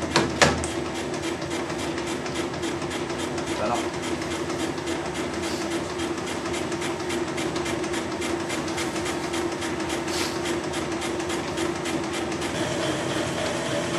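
A machine cutting a bore on a dividing head, running as a steady mechanical drone with a fast, even ticking rhythm throughout and a few sharper clicks, close and continuous with no voices.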